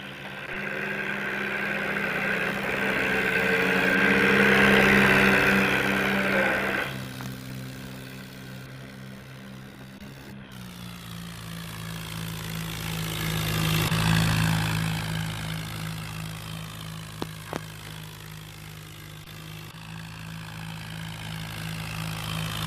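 An Eicher 551 tractor pulling a big trolley heavily loaded with sacks, its engine droning steadily for over twenty seconds and swelling twice as it works harder under load, with a few brief clanks.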